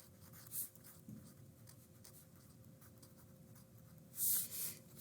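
Pen writing on a piece of paper at a desk: soft, continuous scratchy strokes, faint and close, with a couple of sharper scribbles near the end and no talking.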